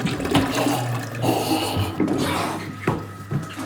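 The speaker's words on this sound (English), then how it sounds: "Either way, we will flush it." A household toilet flushing in a house, rushing water with gurgles and swells running steadily throughout, close and fairly loud, with no talk.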